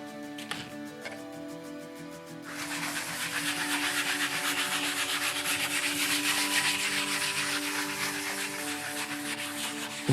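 Close rhythmic scrubbing of Rubio Monocoat Precolor Easy into wood, a few brief taps and rubs first, then a sustained, even back-and-forth abrasive swishing with no talk.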